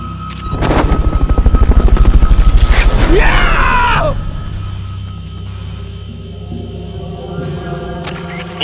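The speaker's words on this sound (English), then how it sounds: "Fulton recovery to helicopter is complete." A Fulton recovery helicopter in the video game Metal Gear Solid Peace Walker: loud rhythmic rotor chopping and mechanical whooshing for several seconds, then a rising whine that fades into a quieter ambient hum.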